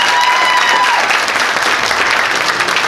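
Loud audience applause during candidate introductions at a US Senate debate hosted by a conservative group, sustained dense clapping filling the room without talk.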